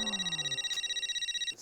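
A phone rings in a home setting with a repeating electronic trill that pulses steadily, fairly loud and near, cutting off at the end, with no speech over it.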